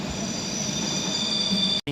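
A train at London's Paddington station, steady loud rumble with high squealing wheel tones sustained throughout, ending in a brief sudden dropout.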